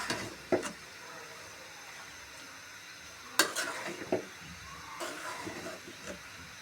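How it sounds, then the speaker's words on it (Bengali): Pasta fries in a pan with a low, continuous hiss, broken by a few sharp scrapes and clinks of a spoon against the pan, fairly quiet and close. "এটা বেশ কিছুক্ষণ ভালোভাবে ভেজে নেব"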